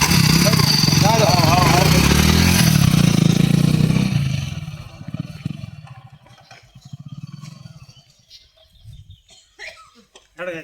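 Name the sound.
second-hand motorcycle engine running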